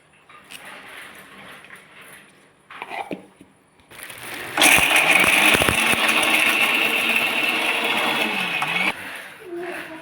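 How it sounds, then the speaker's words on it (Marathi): A mixer grinder whirs loudly for several seconds as it grinds curd, gram flour, garlic, cumin and coriander for Maharashtrian kadhi, preceded by quieter kitchen handling and short bursts. "ह्याला मिक्सर करून घेतलं बारीक"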